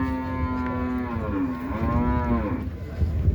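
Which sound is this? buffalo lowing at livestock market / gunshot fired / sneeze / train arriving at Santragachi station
buffalo lowing at livestock market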